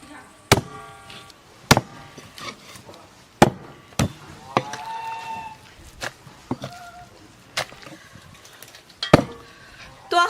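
A cleaver chops through beef marrow bones on a board in a home kitchen: about a dozen sharp, loud, close thwacks at uneven intervals, with small clatters and knocks in between.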